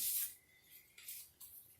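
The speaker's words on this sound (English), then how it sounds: "I just spray paint this" A spray paint can hisses paint onto a canvas banner in short bursts: one longer spray, then two quick ones, close and fairly soft, with no voices.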